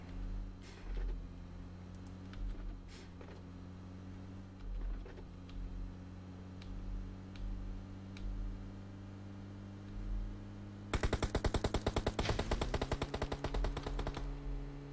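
Rapid bursts of automatic gunfire from PUBG Mobile, a loud close volley of sharp repeated shots near the end, following quieter game ambience with a steady vehicle engine drone and scattered distant pops.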